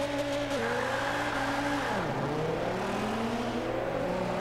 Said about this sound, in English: Let's just listen to the beautiful engine as we take off.